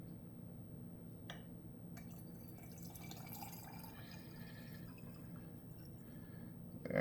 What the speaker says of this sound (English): fill the rest up just with regular water